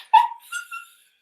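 Daisy, a pet dog, lets out a short high yip followed by two softer whining whimpers, close by and brief, with no one talking over it.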